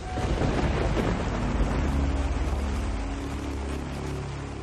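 Thunder from approaching tropical storms, a loud, continuous, broad rumble that rolls on without pause and eases slightly toward the end, with no voices.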